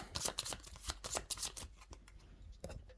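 Playing cards for the Ceres board game being shuffled close by during a solo session, a run of quick riffling bursts and soft card slaps with brief pauses, with no talking.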